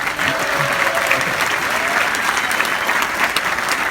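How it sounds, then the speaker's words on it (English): Graduation ceremony audience applauding for Derek after his address to fellow graduates, a broad sustained roar of many hands clapping at once, loud and continuous with light murmuring underneath. "Please give Derek a big applause again."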